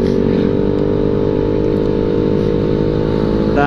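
Loud, close, steady drone of a Honda Beat motorcycle fitted with an aftermarket KJS exhaust, revving in the mid-to-upper range with a constant throaty hum and a brief rise in pitch at the end.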